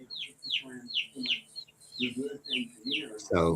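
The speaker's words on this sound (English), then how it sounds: "Oh, I hear birds." A bird repeats a quick, bright downward-sweeping chirp about every half second, clear and fairly near, while a person speaks softly underneath and briefly at the end.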